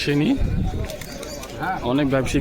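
Pigeons at the Beldanga pigeon market in Murshidabad coo in short bursts at close range, under steady conversation from people nearby.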